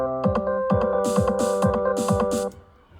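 Pop song drum build with a thumping kick drum pulsing under sustained synth chords, then a hissy snare-like hit pattern entering midway, the groove cutting off sharply near the end.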